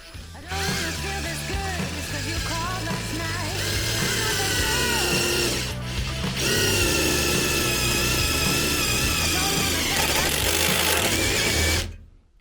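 A GRAND AGU 16BL mini impact driver driving a self-tapping metal screw: a loud, continuous whirring hammer rattle held for several seconds, a brief dip near the middle, then more steady driving before it cuts off abruptly.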